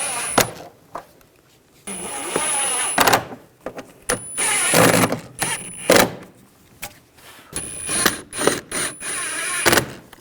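Screws are driven into a rear shock mount on a 2009-2017 Volkswagen Tiguan, short bursts of power-tool whir and ratcheting separated by quiet gaps, close and fairly loud, several irregular runs.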